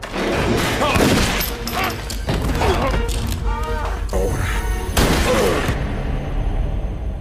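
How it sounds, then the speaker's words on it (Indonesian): Gunfire in the action film Hellfire as an old man shoots down a thug from above, heard as loud bursts and sharp reports over a dense, continuous soundtrack with music and effects throughout. "Abah sukses menembak preman tersebut dari atas dan menyelamatkan Lena tepat pada waktunya"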